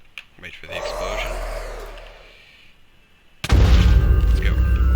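A Minecraft 1.14 explosion erupts abruptly as a loud, broad rumbling blast late in the moment, following a quieter stretch of game sounds.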